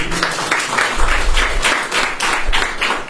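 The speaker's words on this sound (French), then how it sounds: "Donc, une fois de plus, applaudissez encore." An audience claps in waves at a testimonial gathering, with loud pulsing bursts of clapping that rise and fall roughly every half second, close and steady throughout.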